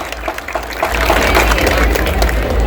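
Loud, dense applause from a crowd of women at a community home-minister style event in Nashik, swelling after the first second and then holding steady to the end.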